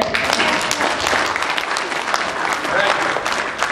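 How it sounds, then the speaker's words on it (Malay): Audience applause for Cik Badrul at a Malay-language motivational talk, a steady dense patter of many hands filling the room, with a voice faintly audible through it. "Bagi tepukan kat dia."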